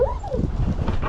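A dog whimpers and yips in a junkyard, a short high whine followed by a few quick close yelps, loud and brief.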